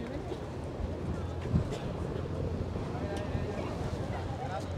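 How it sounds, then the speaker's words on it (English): Steady wind buffets the microphone with a low, continuous rumble and occasional gusts aboard a cruise boat near the Statue of Liberty, New York City, no clear speech standing out. "It's very windy here. Very windy."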